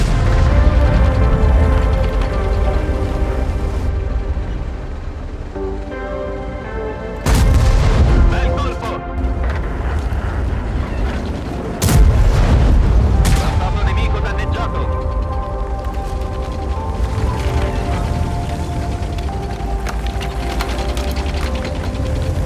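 Heavy tank cannon fire and shell impacts in the video game World of Tanks, an Italian Rinoceronte fighting a Hori, with sharp loud booms at intervals over a dense, continuous battle soundtrack.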